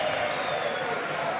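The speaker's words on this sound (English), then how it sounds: "And that's got the crowd going" A darts crowd at a European Darts Grand Prix match cheers and applauds in a dense, sustained wash of clapping and voices, heard at a steady level throughout.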